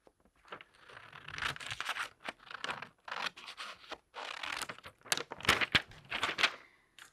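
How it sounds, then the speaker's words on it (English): Scissors cutting out a die-cut paper piece for a card: a string of close, crisp snips and papery scratches in irregular bursts, with no talk. "And now I can cut that out with a pair of scissors."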